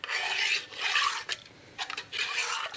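Yeast being stirred into liquid in a bowl for Swedish cinnamon buns, a spoon scraping and rasping in three close bursts with brief pauses between, no voices.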